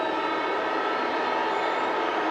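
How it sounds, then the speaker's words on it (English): A long, sustained quarter-time siren blares at a 1995 AFL match between Collingwood and West Coast Eagles, a loud continuous tone held steady throughout over stadium crowd noise. "The siren will sound"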